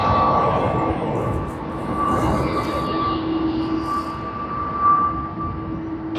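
Airbus A320 at Sydney Airport, a loud steady jet engine roar with a broad rumble and whining tones, distant to moderately near and sustained throughout.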